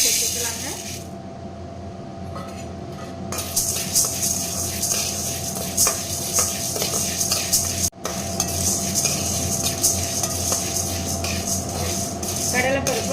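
Chana dal dry roasting in a pan while being stirred nonstop, with a steady scraping, rustling rattle of lentils against metal, close and fairly loud, under a brief pause near the middle.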